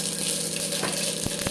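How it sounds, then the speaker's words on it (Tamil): Mustard seeds crackle and sizzle in a little hot oil for a spicy brinjal curry, a dense, loud frying hiss throughout with a couple of sharp pops near the end. "இப்போ வந்து கடுகு போட்டுக்கலாம்."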